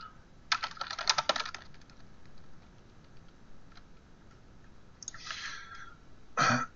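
Keys clatter on a computer keyboard in short quick bursts of typing, fairly soft and close, separated by quiet gaps.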